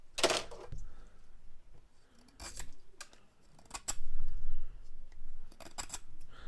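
An Ozark Trail Glacier folding knife, 7.5-inch with shaft lock and white handle, whittles redwood in a series of short, crisp scraping cuts, with a sharp burst at the start and several quieter strokes spaced irregularly after it.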